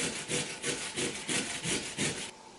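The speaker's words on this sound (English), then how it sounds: "I'm going to continue to take my chances with this old grater" An old hand grater works a vegetable for clam chowder in a home kitchen, a loud, close rasping scrape repeated in a steady back-and-forth rhythm of about ten strokes before stopping.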